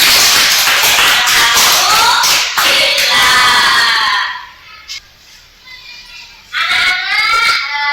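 Primary school children in a classroom clapping and shouting excitedly after group presentations, a loud burst of claps and voices that drops to near quiet midway before another short burst of clapping and chatter.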